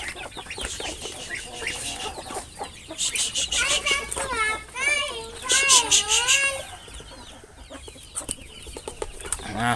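A flock of chickens, fed alongside ducks in the morning in Laos, clucks and squawks in bursts with rising, wavering calls, while people, including a child, talk nearby.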